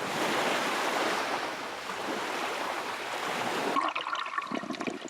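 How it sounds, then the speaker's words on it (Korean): Ocean waves surge and break onto the shore of Tuvalu, a steady broadband roar of surf that holds loud and close, then thins into choppier splashing near the end. "지구의 모든 물이 이 섬으로 밀려들고 있는 듯합니다."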